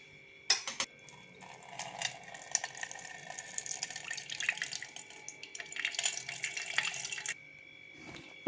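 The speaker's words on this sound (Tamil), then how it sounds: "இத நம்ம தண்ணி வடிச்சு எடுத்துக்கலாம்" Soaking water drains from overnight-soaked Mappillai Samba rice in a kitchen, a steady faint trickle and splash with a few small clicks and taps, ending abruptly.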